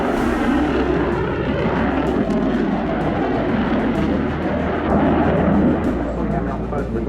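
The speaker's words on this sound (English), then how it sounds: "Very dramatic takeoff." At an air show, an aircraft taking off gives a loud, continuous engine roar with a broad rumble that holds steady for the whole stretch, while a voice talks faintly underneath.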